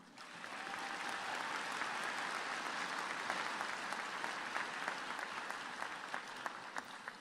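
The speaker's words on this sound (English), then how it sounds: "A round of applause." Steady applause from a sizable commencement ceremony audience, dense clapping that swells in quickly and holds at an even level throughout, with no voices standing out.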